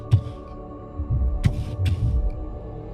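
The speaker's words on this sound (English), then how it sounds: "The heartbeat is getting weaker, slower." Heartbeat sound effect in an eerie fantasy forest scene, a few deep low thuds spaced irregularly over a steady dark hum, with no speech.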